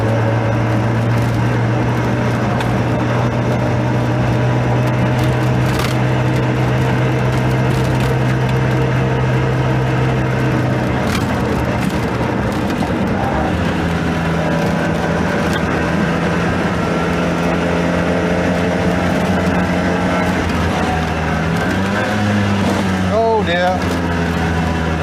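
A Messerschmitt KR200 Cabriolet with rubber suspension on the road: a loud, steady, close engine drone runs for the full length, its pitch dropping and shifting partway through, with rattles and knocks and a voice talking over it.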